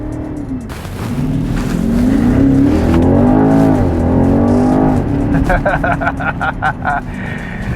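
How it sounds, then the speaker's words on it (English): A 2022 BMW X6 M50i V8 SUV revs loudly, the exhaust rising and falling in deep surges before clipped bursts of crackle, all close and powerful. "You want to be able to hear it. And in this, they've just tuned the exhaust so well."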